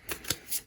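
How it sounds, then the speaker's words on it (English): A deck of playing cards is shuffled during a solitaire card game, giving two or three quick, soft riffling bursts that are brief and fairly quiet. "I shuffle these up."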